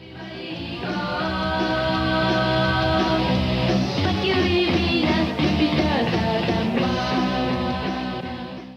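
Punk rock from a Japanese band: driving distorted guitars, bass and drums with sung vocals, loud and continuous throughout.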